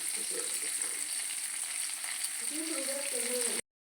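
Cashews and curry leaves fry in hot oil in a pan for a South Indian vermicelli dish, a dense steady sizzle filling the clip with some faint background sounds near the end before it cuts off.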